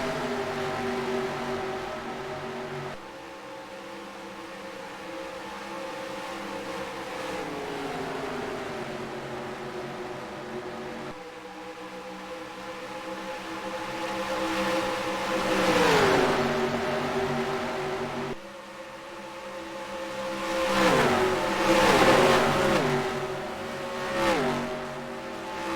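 Race car engines in a NASCAR racing video game rev and whine in rising and falling sweeps, several cars overlapping at steady moderate loudness, swelling louder and busier toward the end.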